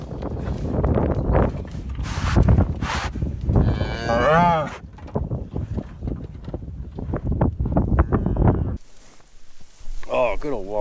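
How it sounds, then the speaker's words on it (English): A bottle-raised farm cow moos in a few long drawn-out calls near the microphone in winter, with someone talking over and between the lowing and some wind noise. "Oh, I love my walrus cow. Yeah, you're a good cow."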